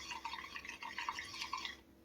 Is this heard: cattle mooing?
no